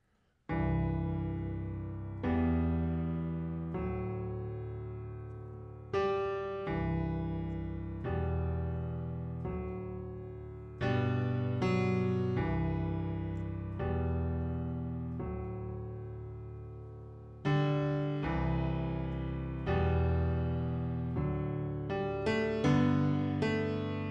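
Solo piano playing chords from a song in a steady rhythm, each new chord struck firmly and left to ring, close and fairly loud with no voices.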